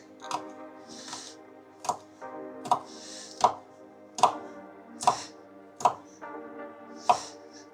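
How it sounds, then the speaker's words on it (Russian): A knife chops chili pepper on a board in about nine sharp, evenly spaced strokes, close and crisp against a quiet room with no talk. "Сейчас перец порежем"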